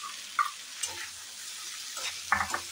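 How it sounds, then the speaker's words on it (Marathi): Barnyard millet roasts in ghee in a pan, a faint soft sizzle broken by a few light stirring scrapes and taps. "आणि चांगलं तुपात असं भाजून घ्यायचं"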